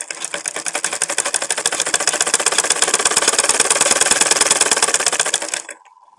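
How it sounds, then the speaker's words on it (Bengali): A sewing machine runs steadily for about six seconds, stitching a narrow hem on a blouse sleeve cuff with a fast, even mechanical clatter, loud and close, then stops abruptly. "তারপরে হাতের মুখের কাপড়টা চিকন করে সেলাই করে নেব।"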